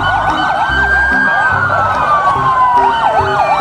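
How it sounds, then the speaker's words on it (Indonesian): A toy ambulance siren wails loud and steady with sweeping, alternating pitch throughout, sounding mechanical and close. "Wow, mobil ambulan."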